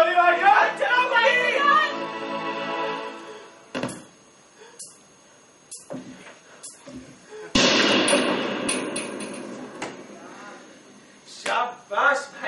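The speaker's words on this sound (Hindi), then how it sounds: "चला गोली भाईजान चलाओ गोली भाईजान चलाओ गोली" Gunshots fired in a tense confrontation, several sharp isolated cracks spaced apart amid shouting and emotional voices, some bangs loud and close.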